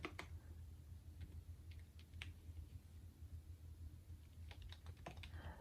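Quick, light key clicks from typing on a laptop keyboard, an uneven patter of soft taps in short bursts, close and quiet against a steady low background hum.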